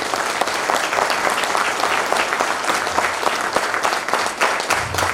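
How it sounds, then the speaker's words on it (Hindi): Loud, dense applause from an audience at a motivational seminar, a continuous roar of clapping hands filling the room at steady intensity for the whole stretch. "पहले एक बार ताली बजा दो जोरदार।"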